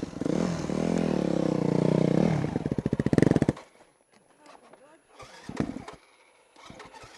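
Motorcycle engine running loud and close, holding a steady roar and then revving in sharp bursts before cutting out. Scattered voices and faint clatter follow in the quiet.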